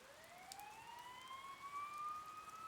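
Police sirens in the video game Persona 4 Golden, a steady wailing tone that sweeps slowly upward, sounding at moderate level without any talk.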